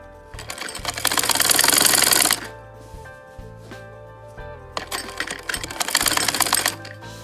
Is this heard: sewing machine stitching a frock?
yes